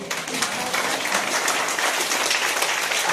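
An audience at a religious assembly and discourse hall claps steadily to welcome a guest onto the stage, a dense, even burst of applause throughout.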